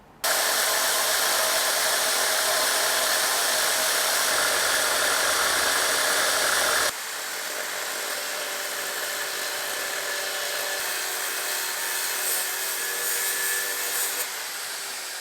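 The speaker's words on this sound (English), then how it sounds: "See if I can do it with a 9-inch grinder." A loud, steady high-pitched whine of a 9-inch angle grinder cutting through blockwork during demolition, running continuously and easing to a slightly lower pitch partway through.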